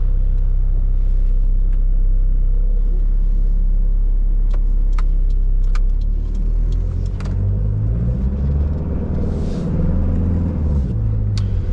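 A 1993 Mitsubishi Pajero with a 2.8 turbo diesel engine driving, heard from inside as a loud, steady low rumble with shifting engine tone and occasional small clicks and rattles.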